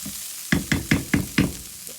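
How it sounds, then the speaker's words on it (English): Onions softening and browning in a hot pan for a spaghetti bolognese, a steady sizzle broken by four or five close, regular scraping stirs or knocks against the pan, no voices. "That's starting to brown nicely there. The onions are starting to caramelise."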